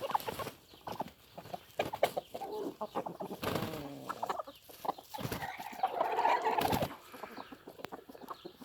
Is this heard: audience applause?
no